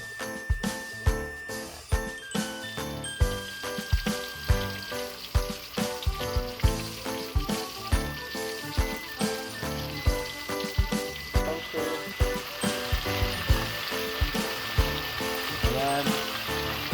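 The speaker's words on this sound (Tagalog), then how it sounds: "Magigisa na po tayo ng sibuyas, kamatis lang po" Onions and tomatoes sauté in hot oil in a pan, with a steady loud sizzle broken by regular clinks and scrapes of a utensil against the pan throughout.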